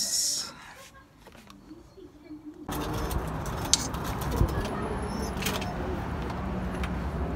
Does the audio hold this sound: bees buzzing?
no